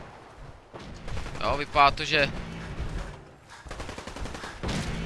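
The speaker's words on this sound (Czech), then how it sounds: "Tam už nám taky někdo střílí." Gunfire in the video game Fallout 4 crackles in a few sharp bursts around the middle, mixed with game sound and someone talking over it.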